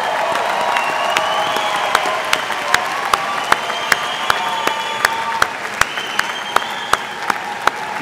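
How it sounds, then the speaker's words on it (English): A commencement audience gives a sustained round of applause for new engineering graduates, a thick, steady clapping with sharper individual claps popping out at a near-regular pace. "Let's have another round of applause for our latest engineering graduates."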